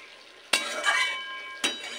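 Potatoes stirred with spices in a frying pan, two sharp spatula clinks against the pan over a low sizzle, close and without speech.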